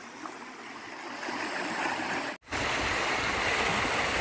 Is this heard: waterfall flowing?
yes